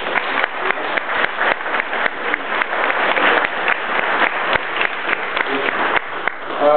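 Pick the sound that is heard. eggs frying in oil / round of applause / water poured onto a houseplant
round of applause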